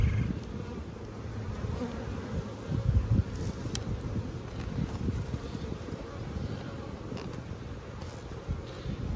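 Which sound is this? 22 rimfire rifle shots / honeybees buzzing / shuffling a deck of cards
honeybees buzzing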